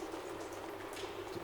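Rain falls steadily in an audio drama scene, a soft continuous patter with scattered drops and a faint bubbling, wet quality, quiet and even throughout with no voices.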